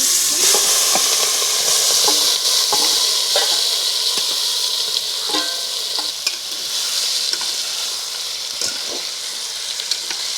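Chicken pieces frying in hot oil in a pan for a Bengali chicken bhapa, with a loud continuous sizzle and hiss broken by frequent clinks and scrapes of stirring, heard up close.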